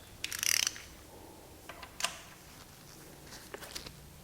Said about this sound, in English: go ahead and torque down that T45 bolt